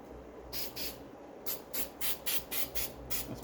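Spray glue spurts from an aerosol can with a broken nozzle during seat upholstery work on a Triumph TR6, about eight quick sharp hissing bursts in a steady rhythm, close and fairly loud, with no talk.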